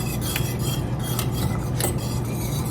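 Spoon stirring vanilla into pumpkin spice syrup in a saucepan on the stove, a steady close scraping and clinking of utensil against pot over a low hum, with no talking.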